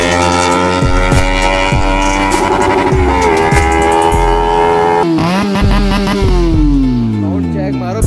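A Kawasaki ZX10R roars through a drag race, loud and close, its pitch sweeping up through hard revving and gear changes, then falling away as the engine winds down.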